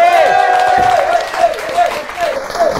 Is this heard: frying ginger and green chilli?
no